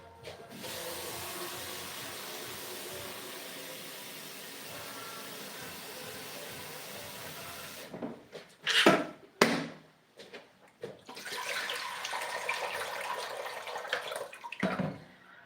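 Steady broadband rush of water running from a tap for several seconds, then a few clunks and splashes before the flow resumes.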